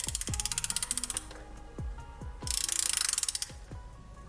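Pittsburgh and Snap-on hand ratchets clicking in close, rapid bursts of fine metallic ticks, with pauses between runs and a few sharper knocks from handling the tools.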